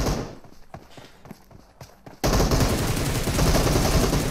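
Automatic M762 rifle fire in PUBG breaks out at once into a loud, dense burst that keeps going without a break, following softer, scattered footstep-like taps.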